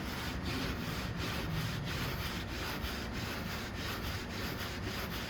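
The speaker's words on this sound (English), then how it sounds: "you want to take your steel wool and you want to go with the grain" Steel wool rubbed along the grain of peeling, rough-finished wood, a steady close scratchy rasp repeating in even back-and-forth strokes with no talk.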